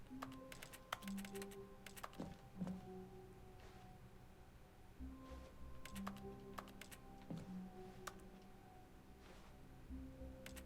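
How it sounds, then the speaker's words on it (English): Keys clatter on a computer keyboard in a steady run of clicks and taps, close and clear, with brief pauses between bursts and a low background hum; no one speaks. "Hit the keyboard, then reset."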